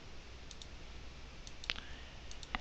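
A few faint, sharp computer mouse clicks sound in a quiet room while unfollow buttons are pressed on Twitter, with a louder cluster of clicks near the end.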